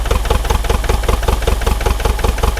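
A neglected, smoking Bobcat T595 skid steer engine runs rough on one or two cylinders, a loud close rhythmic chugging with uneven pulses throughout.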